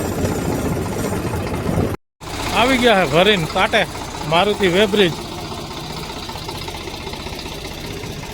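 A loaded tractor idles at the Maruti weighbridge, its steady mid-pitched engine drone running continuously while someone talks over it.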